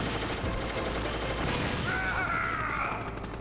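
Hind helicopter strafing run in Metal Gear Solid, a dense, continuous barrage of heavy gunfire that roars steadily for the whole stretch, with a high whining tone rising over it midway.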